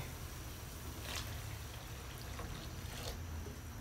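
Red food coloring poured into a pot of boiling water for dyeing salted eggs, a soft steady trickle and bubbling with a couple of faint splashes.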